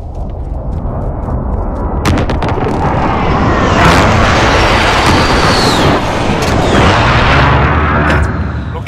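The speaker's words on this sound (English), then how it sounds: "friendly precision airstrike on the way" Precision airstrike explosions in Call of Duty: Modern Warfare on the Hovec Sawmill map, heavy rumbling blasts rolling continuously for several seconds, loud and dense with sharp cracks layered over a deep booming bed.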